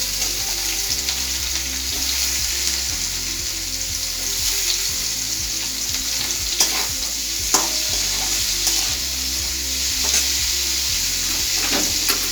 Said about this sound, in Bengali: ওই কাঁচকলার যে খোসাগুলো সেদ্ধ করে রাখা আছে সেগুলো আমি দিয়ে দিলাম